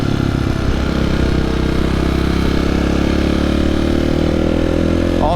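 New motorcycle ridden and leaned through corners, its engine a steady loud mid-pitched drone with slight pitch shifts, heard alone without talk.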